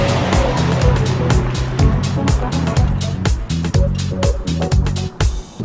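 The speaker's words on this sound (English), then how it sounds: "Drive, and away we go!" A 2012 Suzuki Kizashi Sport GTS AWD car pulls away, its engine note loud and close with rising and falling tones, punctuated by sharp clicks and knocks from inside the cabin.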